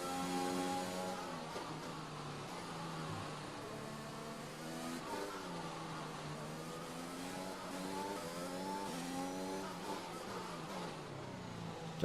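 Race car engines wail through gear changes in a Monaco racing video game, one engine note climbing and dropping in repeated sweeps over about twelve seconds, with no talking.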